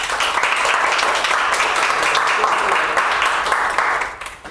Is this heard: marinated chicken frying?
no